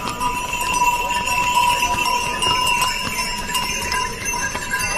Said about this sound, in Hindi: एक घोड़े जा रहे हैं इसलिए मैं दिखा नहीं पा रहा हूँ बगल से।